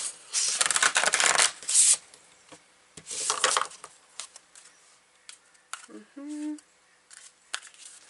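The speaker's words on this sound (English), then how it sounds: "I'm going to pull some more cards here for you." Oracle cards are shuffled and pulled by hand, with crisp riffling bursts up close, then lighter card slaps and snaps. A voice speaks briefly among them.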